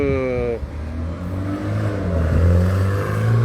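The Ford 390 V8 of a 1966 Ford Galaxie 500 XL runs with a deep, steady rumble that swells slightly near the end, following a brief tonal voice-like sound at the start.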